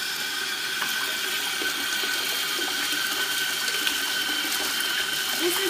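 Water from a tap pours into a bath being filled with bubbles and bath bombs: a steady, even rush that holds at one level from start to finish with no voices over it.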